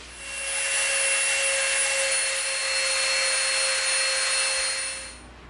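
A small high-pitched rotary tool rounds the edge of an EVA foam prop, giving one steady, whining buzz with a clear tone that starts, holds for about five seconds and then stops, close and alone.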